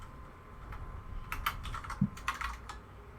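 Rapid clicking of a computer keyboard during a live gaming stream, clustered bursts of keystrokes over a low background hum, fairly close and moderate in level.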